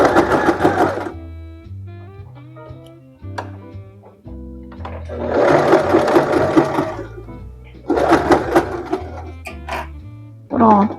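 A sewing machine stitches fabric in several loud, close whirring runs, separated by short pauses, and closes with a brief backstitch burst, while someone talks in between and over the stitching.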